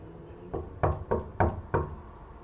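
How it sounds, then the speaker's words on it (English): Knuckles rap on a door five times in a loose, fairly even rhythm, the knocks close and distinct against an otherwise quiet room. "census workers will knock on your door"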